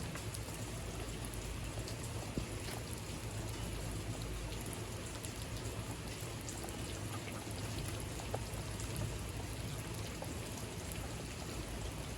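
Soft, continuous patter of rain falling on a surface, faint and steady with no voices.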